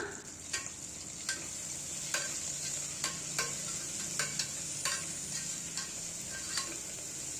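Green chilli, mint and coriander are stirred into onions frying in a pan for kushka, a steady close sizzle with regular light scrapes and taps of the spoon against the pan.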